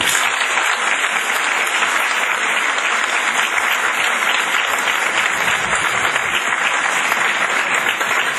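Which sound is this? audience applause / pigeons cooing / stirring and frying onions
audience applause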